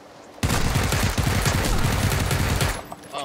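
A rapid, loud burst of automatic gunfire in the battle royale game PlayerUnknown's Battlegrounds, with shots packed tightly together for over two seconds before cutting off abruptly.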